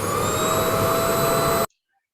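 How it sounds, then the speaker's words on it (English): A vacuum cleaner runs with a steady, loud whining hum and high-pitched whistle, close by, then cuts off suddenly into silence. "That's the vacuum."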